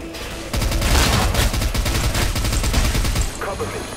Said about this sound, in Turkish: Yalnız burada etraf da patlıyor galiba.